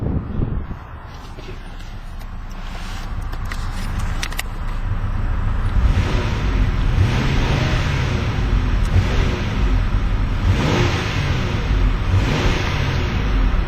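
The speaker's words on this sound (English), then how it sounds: "And let's go ahead and rev it a couple times." A 2011 Ford Edge Sport's V6 engine idles with a low rumble, then swells through several rising revs, loud and close, with no talking.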